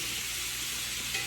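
Butter sizzles and fries steadily in a hot cast iron pan with steak, a dense, bright hiss that stays constant and close.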